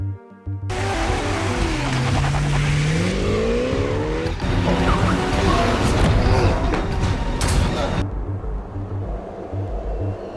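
A car in a movie chase scene, engine roaring and tires squealing with a rising pitch sweep, then a loud busy crash-like burst before fading to a lower rumble.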